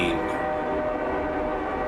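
A train sound effect rings out at a Tomorrowland festival show, loud and sustained with steady horn-like tones over a dense crowd and music wash, lasting throughout.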